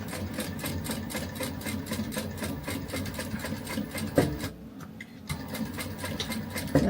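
A sewing machine stitches pocket card holders in a steady, rapid mechanical rhythm, heard close by. It pauses briefly near the end with a clunk, then runs again.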